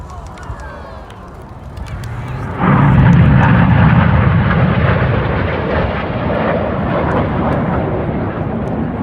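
A Red Arrows display jet passes over the Duxford airshow at the D-Day 80th anniversary event. A loud, broad jet roar swells abruptly and holds steady, with a fainter rumble before it.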